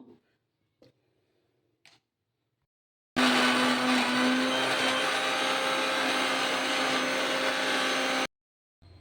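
A mixer grinder blends gooseberry (amla) and turmeric into paste, starting abruptly with a loud steady whirring hum that lasts about five seconds and then cuts off. A few faint knocks come before it.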